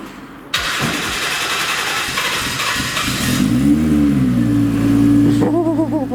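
A Nissan S14 with a JZ engine cranks over briefly, fires up and settles into a loud, rough idle with a few rising revs, recorded close by with no talk.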